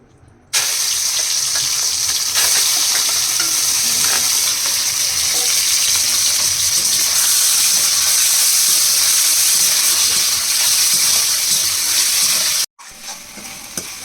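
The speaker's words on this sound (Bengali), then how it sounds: "লবণ হলুদ মাখানি চিংড়ি মাছটা ভেজে নেব।" Shrimp coated with salt and turmeric fry in hot oil in a wok, giving a loud, continuous close sizzle that runs unbroken for most of the clip before cutting off near the end.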